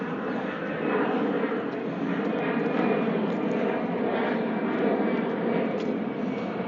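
A fixed-wing airplane passes low near Lisbon airport, its broad engine roar loud and steady throughout, with faint voices underneath.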